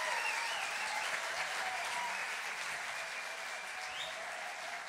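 Sustained audience applause following a talk on group work and democracy, a dense steady clatter of many hands clapping at fairly even loudness throughout, with no voices on top.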